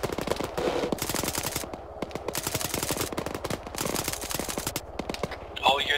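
Rapid automatic gunfire rattles almost continuously in a military video game, dense bursts of sharp shots at close range with some distant reports, while voices speak over the firing.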